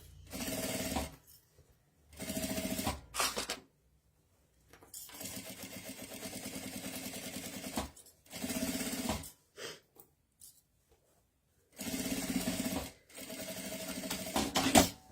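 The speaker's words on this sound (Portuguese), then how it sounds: "A minha costura vai ser com um pé de máquina, retrocesso no começo." A sewing machine with a presser foot stitches a messenger bag in several loud, whirring bursts of one to three seconds each, separated by silent pauses, close up with no voices.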